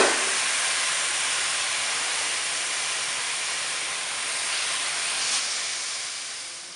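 Marinated meat for Chinese-style fried pasanday hitting a hot cooking pot, a steady loud hiss of sizzling that holds evenly for several seconds, with no voices.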